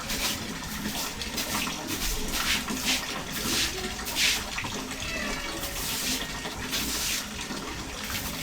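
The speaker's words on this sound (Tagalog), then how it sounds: "Buhusan natin to kasi yung sabon madulas." Water poured over soapy surfaces to rinse away slippery soap, a continuous close splashing rush with uneven surges and gurgles, no talk.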